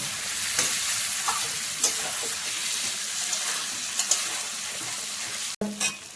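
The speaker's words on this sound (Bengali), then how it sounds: "ভালো করে কষিয়ে নেব।" Boal fish curry stir-frying in a pan, with a steady loud sizzle and scattered scrapes and knocks of a spatula against the metal, then a brief break near the end.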